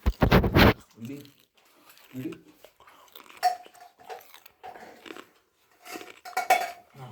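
A large metal cooking vessel clatters loudly in a short burst of clanking at the start. Softer knocks and scrapes follow under ongoing conversation.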